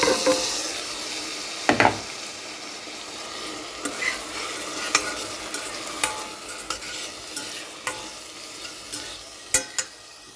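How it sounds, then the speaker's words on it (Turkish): Lentils for lentil soup tipped into sizzling tomato paste in a pan, a steady fry hiss under sharp wooden-spoon taps and scrapes that recur every second or so, close and without voices. "Şimdi yanmadan mercimeklerimizi ekliyoruz."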